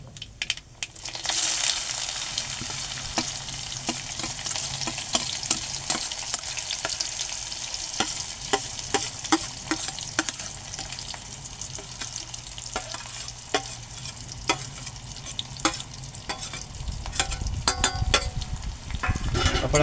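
Onion, tomato and green chili sauté in hot oil in a pan with a loud, dense sizzle. Stirring scrapes and taps run through it, and the hiss swells toward the end.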